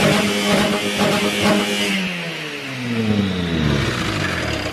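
A car engine, its cylinder head sealed with JB Weld in place of a head gasket, revs up loudly, drops, then climbs again in a rough, slightly rattly roar close by.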